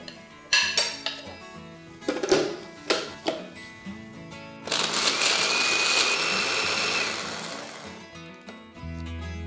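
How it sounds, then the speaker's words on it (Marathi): Fried cashews, almonds, poppy seeds, coconut and sesame ground to powder in a kitchen grinder: several sharp knocks as jar and lid are handled, then a few seconds of loud whirring grinding that winds down. "आता हे तळलेले काजू, बदाम, खसखस, खोबरं, तीळ हेही घालत आणि याचीही जितकी शक्य असेल तितकी बारीक पूड तयार करून घ्यायची."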